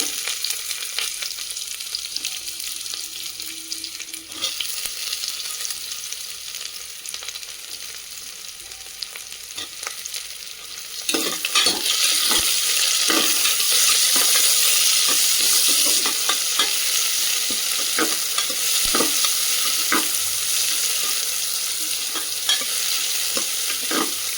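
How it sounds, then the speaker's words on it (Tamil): Chopped onions stirred into hot oil for chicken biryani, first a quieter sizzle with light scraping, then a louder, busier frying hiss with repeated spoon scrapes and clinks against the pot, no voices. "அடுத்து கட் பண்ணி வச்சுருக்க ஆனியனை மிக்ஸ் பண்ணிக்கோங்க."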